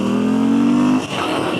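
A motorcycle rides through winter traffic, its engine holding a steady droning pitch before easing off, with road noise and passing traffic around it.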